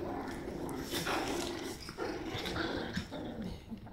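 Four-week-old puppies growl and scuffle while play-fighting, with low rumbling growls and small yips, close and fairly quiet.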